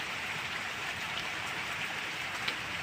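Steady rain falls in a dense, even hiss with a faint patter of drops, constant and close from start to finish.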